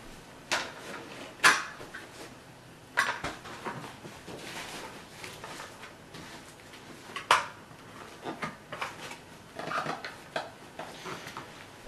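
Mazda Miata bucket seat being flipped over and handled, scattered hollow knocks and metallic clunks at irregular intervals, close and fairly faint.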